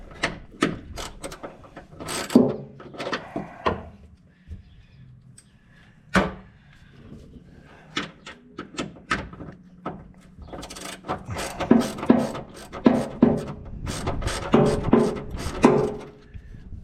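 A socket ratchet wrench turns a bolt during electrical work, giving bursts of sharp clicking strokes with pauses between, close and fairly loud, mixed with scattered clunks of handling.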